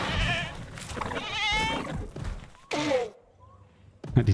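Goat in Jurassic World Evolution 2 bleating as a dinosaur attacks it, a wavering bleat amid thumps and growls, with someone talking over the game sounds.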